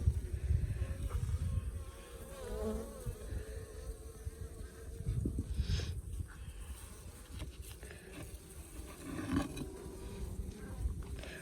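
Africanized honeybees swarm around an 8-frame hive in an arroyo, a dense steady buzzing hum close to the microphone with a few individual bees passing near, no voices.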